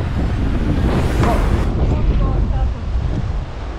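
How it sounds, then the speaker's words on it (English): Strong gusts buffet the microphone high on an oceanside climbing route, a loud continuous roar that eases slightly near the end, with faint voices underneath. "The wind almost blew me off."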